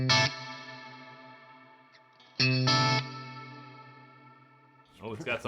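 An Ibanez AZ Essentials electric guitar played through a warbly chorus effect rings out in a few strummed chords. Each chord is left to decay slowly, and speech follows at the end.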